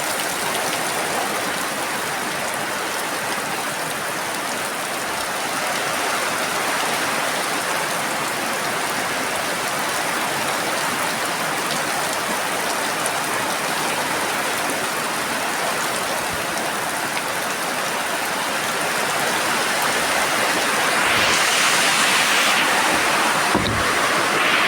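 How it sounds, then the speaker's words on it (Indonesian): Heavy afternoon rain pours steadily in a rural home setting, a dense, even wash of hiss that stays loud and continuous throughout, swelling slightly toward the end with a few soft thumps near the close. "Dan nih hujannya makin sore itu makin deres ya"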